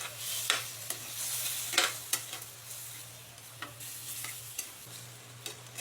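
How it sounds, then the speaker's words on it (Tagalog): Liver spread and tomato sauce stirred in a pan, a spoon scraping and tapping at irregular intervals over a soft continuous sizzle, close and fairly quiet. "Haluin para magsama-sama ang mga sangkap."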